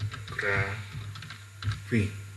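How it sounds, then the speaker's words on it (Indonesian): A computer keyboard being typed on to enter a file name while saving an image, giving short clustered key clicks close up, with a faint voice underneath. "Saya ketik misalnya foto biografi."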